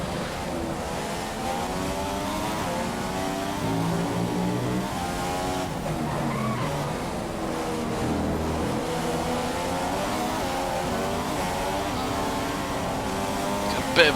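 A Formula 1 car engine in F1 2015 at the Brazilian Grand Prix screams continuously at high revs, pitch rising and falling through gear changes, loud and steady throughout.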